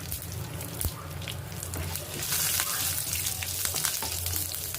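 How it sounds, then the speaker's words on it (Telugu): Mustard seeds, cumin, curry leaves and torn green chillies in a spoonful of oil sizzle and crackle steadily in a pan, close up, with scattered sharp pops and no talking. "1 స్పూన్ ఆయిల్ వేసుకుంటున్నాను. 1 స్పూన్ ఆవాలు, జీలకర్ర, కొంచెం కరివేపాకు, పచ్చిమిర్చి తుంచి వేసుకుంటున్నానండి."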